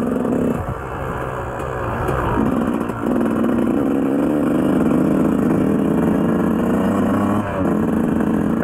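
A 2004 Yamaha YZ125 two-stroke dirt bike engine runs steadily at close range, its buzzing drone rising slightly as the throttle opens, with rattling clatter throughout.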